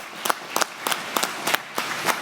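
A few people clapping in slow unison at a COP29 signing ceremony, about seven evenly spaced claps over two seconds, fairly close and distinct against a quiet room.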